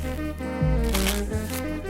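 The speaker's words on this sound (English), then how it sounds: "Get the cards, quick mix. Quick mix. Quick shuffle." Cards riffle briskly in a quick shuffle, a short burst of fluttering snaps close by over a steady background hum.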